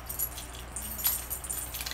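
Keys jingling on a finger keyring shaped like a bike chain, a few light metallic jangles and clinks close by, with no voices.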